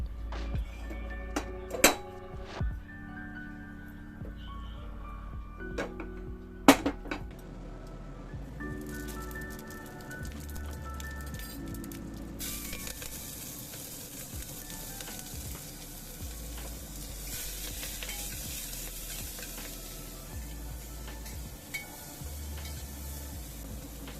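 Refined oil sizzling in a hot pressure cooker while rice is tempered, with a few clinks and stirring knocks early on, then a steady, loud frying hiss over the second half.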